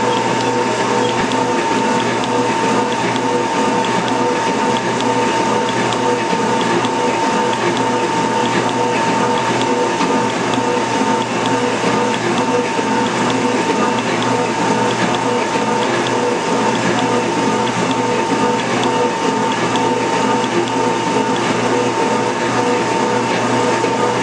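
A metal shaper takes a shaving cut for a fine surface finish, giving a steady, loud mechanical drone with a constant hum and faint scraping that runs unbroken from start to end.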